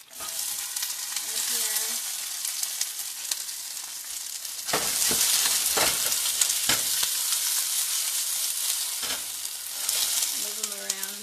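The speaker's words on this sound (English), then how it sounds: "I'm gonna add the vegetables" Vegetables frying in a hot pan with garlic and ginger for a coconut curry, a loud continuous sizzle that surges when stirred, with scraping stir sounds and brief speech in between.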